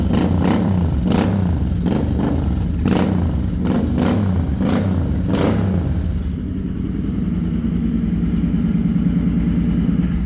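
A 2014 Suzuki Intruder M800 heavy cruiser motorcycle in good condition, revved loudly in several sharp bursts up close before settling into a steady, throbbing idle.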